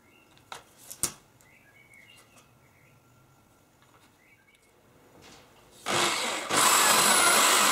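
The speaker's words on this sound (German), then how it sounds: "auf ein Brett markiere ich drei Stellen, an denen ich Löcher bohre für M6er Madenschrauben" A few faint knocks and distant bird calls give way to a loud power drill boring into a wooden board for M6 set screws, the drill starting near the end and growing louder as it bites.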